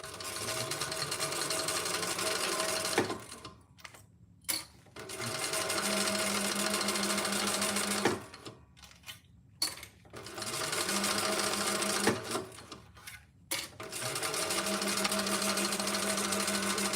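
A sewing machine top-stitches fabric in three long, steady runs of fast mechanical whirring, each broken by short pauses and clicks as the work is repositioned, loud and close with no talk.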